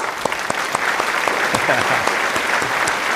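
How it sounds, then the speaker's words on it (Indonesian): A seated audience at an Indonesian stand-up session for civil-service trainers claps for the organizing committee: loud, dense applause with scattered sharp hand strikes, steady throughout with a faint voice underneath. "Tepuk tangan dong untuk panitianya."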